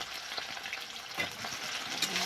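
Potatoes hit hot oil in a pan while a village-style country chicken curry cooks, giving a loud, close crackling sizzle with bursts of spattering and stirring, no voices.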